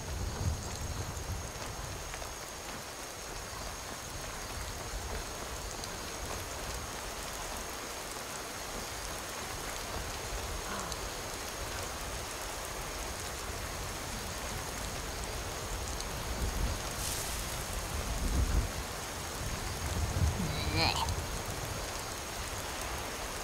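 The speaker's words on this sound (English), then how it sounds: "Oh, and of course it's raining now." Rain falling in the video game Skyrim, a steady even hiss that holds through the whole stretch, with a few faint low thumps and no talking.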